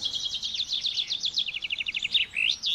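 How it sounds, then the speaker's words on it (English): Small birds chirping and singing in a fast, continuous run of bright trilling notes, close and clear against quiet surroundings. "What's that you're saying, birds?"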